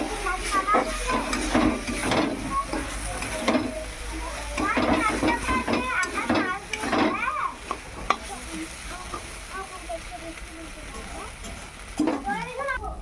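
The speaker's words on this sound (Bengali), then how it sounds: "রান্নার শেষের দিকে এখন একটু নেড়ে চেড়ে" Cabbage curry cooked with a rohu fish head gets stirred in a pan, with repeated scraping strokes over a soft frying hiss, close by, and a voice talking briefly partway through.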